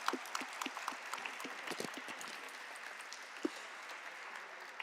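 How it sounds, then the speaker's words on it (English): Scattered applause from an audience at a corporate celebration marking ten years of Alkem Laboratories' NSE listing, fairly faint and distant, with a few louder claps poking through a soft wash. "Can we have a huge round of applause for sir?"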